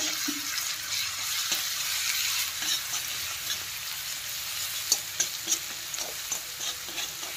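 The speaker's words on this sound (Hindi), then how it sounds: "ऑयल जैसे ही गर्म हो जाएगा इसमें हम डालेंगे अदरक लहसुन और मिर्ची का पेस्ट" Steady sizzling of a ginger, garlic and chili paste frying in hot oil, with occasional scrapes and taps of a spoon stirring in the pan.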